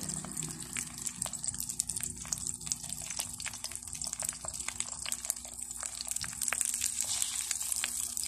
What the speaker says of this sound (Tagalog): At ngayon, ito, ipiprito. Yan, piniprito ko po.